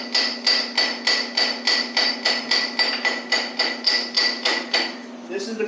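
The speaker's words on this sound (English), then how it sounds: "I got my automotive hammer." An automotive hammer strikes metal in a steady series of about fifteen evenly spaced, ringing blows during the teardown of a blown LT-1 engine, loud and close, with a brief pause and softer sounds at the end.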